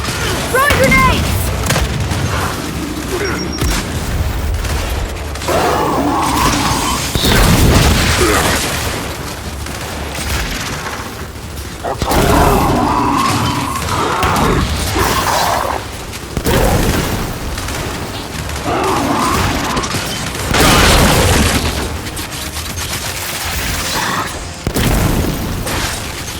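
Grenade blasts in the video game Gears 5, several heavy booms spread across the stretch, mixed with gunfire, battle noise and shouting voices.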